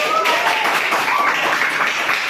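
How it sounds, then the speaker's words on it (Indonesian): Children in a classroom clap their hands together in a dense, steady patter of claps lasting a couple of seconds, with a faint tone and some voices mixed in. "Luar biasa, tepuk tangan."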